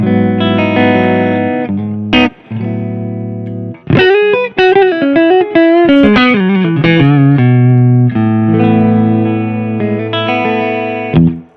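Electric guitar through a Marshall cabinet with lush amp reverb, strummed chords ringing out then a quick melodic run, tails lingering between phrases.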